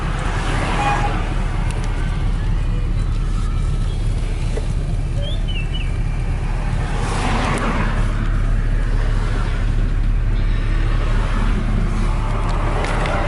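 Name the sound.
road traffic passing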